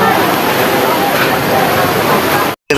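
Floodwater rushing along a street in Bandar Lampung during heavy rain, a loud steady roaring wash of water filling the scene before cutting off briefly near the end.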